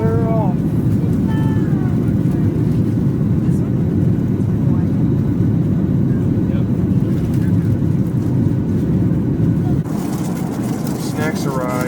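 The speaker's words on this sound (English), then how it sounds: "Clear for takeoff, and we're off." A passenger jet's engines roar steadily and loud on a takeoff run from Dallas, a dense, constant rumble filling the cabin throughout, with a voice and a brief chime audible over it near the end.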